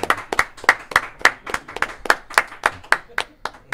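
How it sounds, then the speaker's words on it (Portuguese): Hands clap in a slow, even rhythm, about a dozen distinct sharp claps spaced roughly a third of a second apart, close and clear, with a voice faintly present underneath. "Palmas, palmas, palmas."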